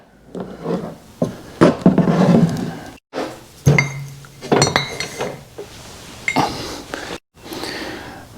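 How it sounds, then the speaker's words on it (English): A metal fork tube is slid and knocked out of the slider of a front suspension fork on an Indian motorcycle, giving a run of clanks, clinks and metallic scrapes with brief pauses, close and fairly loud, no talking. "by taking the slider and running it down like that, we remove the fork tube from the slider"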